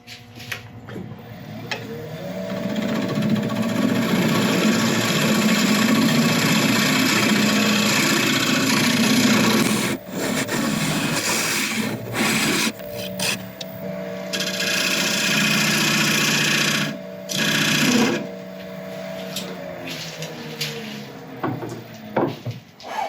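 A wood lathe spins while a tool cuts a recess into a turning blank held in a chuck, giving a steady motor hum with a rough, scraping cutting noise that breaks off and restarts several times in the second half.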